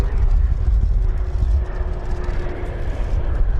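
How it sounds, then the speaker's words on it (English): Air Force One, a large jet, landing at Portland airport, its engines giving a loud, steady roar that holds without a break. "Air Force One landing here in Portland."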